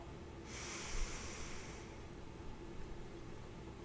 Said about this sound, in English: So I want you to inhale